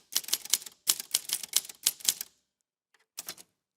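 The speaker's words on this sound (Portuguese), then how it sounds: "muita coisa era datilografada na máquina de escrever" Typewriter keys clatter in three quick bursts of rapid strikes, loud and close, followed by a short pause and one final brief flurry of typing.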